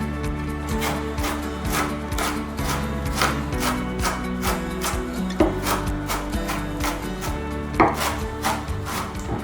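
A sharp knife chops an onion finely on a board, a steady run of crisp, close knocks with a few heavier thuds, with no talking.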